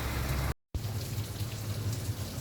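Rain falls in a steady, close hiss of drops on surfaces, broken by a brief gap of silence before the patter carries on.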